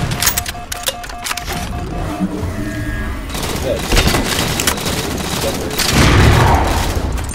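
A sticky launcher in Halo 4 fires and its grenades detonate in a run of sharp pops and heavy booms that build toward a loud blast near the end, layered over busy game noise.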